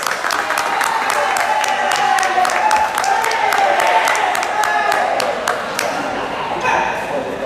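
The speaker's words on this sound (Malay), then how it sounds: "Satu tepukan untuk finalis" A crowd claps steadily for several seconds for competition finalists, the applause close and lively, with a voice speaking over it.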